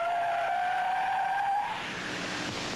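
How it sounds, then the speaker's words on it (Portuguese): A Chevrolet Chevette brakes hard with a sustained high tire screech for about a second and a half, then a softer rushing skid as it stops, close and alone with no talk. "Que tal um carro que para assim?"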